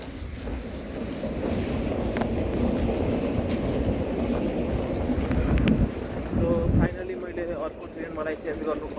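A London train runs with a steady, loud rumble and rattle throughout, shifting partway as it changes pace, while voices talk faintly nearby.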